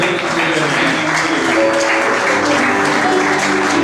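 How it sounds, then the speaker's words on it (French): A church congregation at an apostle's installation service applauds and cheers, a dense, loud, unbroken wash of clapping and crowd voices. "nous acclamons fortement pour la gloire de Dieu"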